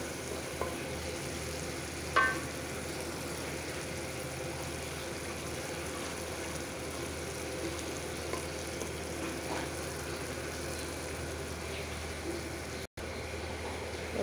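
Fish cooks in a frying pan, a quiet even sizzle and bubbling holding steady with a couple of faint clinks, close and low in level, without speech.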